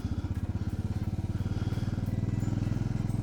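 A Royal Enfield Bullet 500 single-cylinder motorcycle pulls away close by, its rapid, even thumping exhaust beat speeding up slightly as the bike rides off, loud and steady with no talking.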